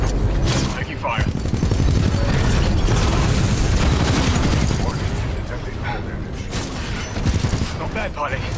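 Heavy gunfire and booming blasts in the Titanfall 2 campaign on master mode, dense and continuous throughout, with mechanical clanks and a voice speaking over the combat.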